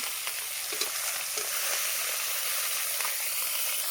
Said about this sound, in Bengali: মাছগুলো সব ভেজে নেব। এইভাবে লাল লাল করে ভেজে নেব।